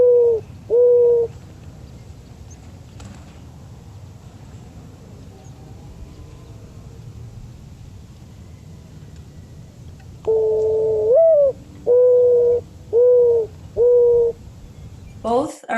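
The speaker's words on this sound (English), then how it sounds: "Here is the call of the mourning dove." Mourning dove coos, a soft mournful series of low hooting notes, one short phrase early and then a longer run of evenly spaced coos, clear and close over quiet background.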